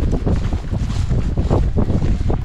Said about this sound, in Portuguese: Tá muito vento aqui, pessoal.